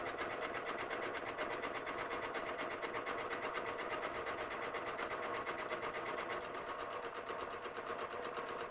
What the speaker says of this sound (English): I get the machine to start sewing the buttonhole